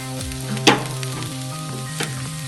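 Vegetables with oil, pepper and salt sizzle in a pan for sweet corn soup, a close steady frying hiss broken by a couple of sharp stirring scrapes, with no voices.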